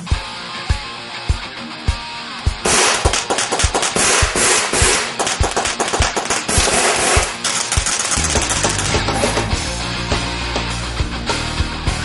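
An H&K P30 CO2 air pistol fired at empty shells, a string of sharp, evenly spaced near shots, followed by denser clattering and a rough mechanical noise near the end.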